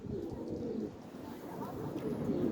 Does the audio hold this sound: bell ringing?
no